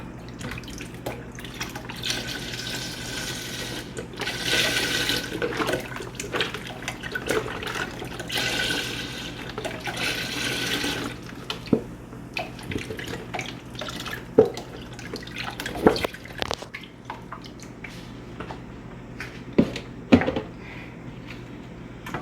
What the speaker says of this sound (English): We're gonna add the whole container of chicken broth.